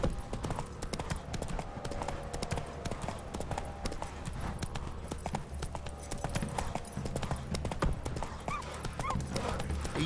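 Hooves of Roach, the horse in The Witcher 3, clip-clop steadily and close throughout, a continuous rhythmic gait over ambient game sound with occasional background voices.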